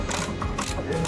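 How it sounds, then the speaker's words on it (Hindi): A ratchet clicks rapidly while tightening 14 mm engine mount bolts on a Hyundai Xcent during clutch replacement, a short, close, continuous burst of metallic ticking. "तो दोस्तों ये माउंट के बोल्ट अभी कस लेते हैं,"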